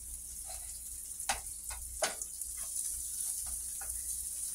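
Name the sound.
dryad saddle mushrooms and dandelion flowers frying in pan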